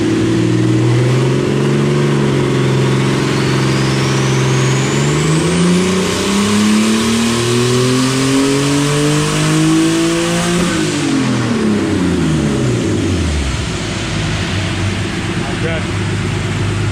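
An adult-sized go kart with a roughly 400 horsepower engine revs on a dyno, its loud droning note sweeping up steadily in pitch, then dropping back down as the throttle lifts, with voices talking over it.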